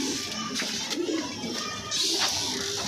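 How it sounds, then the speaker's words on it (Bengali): Pigeons coo inside a large loft housing a few hundred birds of mixed breeds, soft overlapping calls close by against a steady roomy hiss, with scattered wing and shuffle noises and no talk. "আরও আছে কবুতর, মাশাল্লাহ মাশাল্লাহ।"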